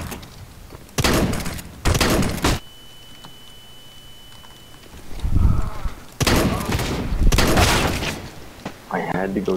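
Heavy auto shotgun blasts in a video game come in short bursts, with a cluster of booming shots early, a quieter stretch, then another run of loud shots. Close and punchy, with voices talking between bursts.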